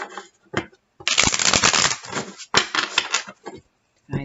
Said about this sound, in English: so we'll do one last shuffle.